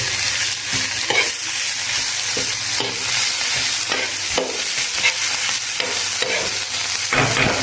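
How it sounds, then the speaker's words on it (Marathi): Fenugreek leaf zunka being stirred and fried in a pan: a steady, close sizzle broken by repeated scraping stir strokes at an uneven rhythm, with no talking. "थोडा हलवायचं आहे, त्याला मिक्स करायचं आहे सगळं व्यवस्थित."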